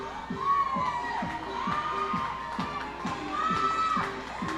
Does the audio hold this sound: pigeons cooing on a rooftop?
no